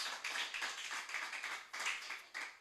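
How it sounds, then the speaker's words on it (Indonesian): A church congregation claps for Jesus in quiet, evenly paced rhythmic bursts of hand claps that repeat for a few seconds, with no voices over them. "Berikan tepuk tangan yang meriah buat Tuhan Yesus"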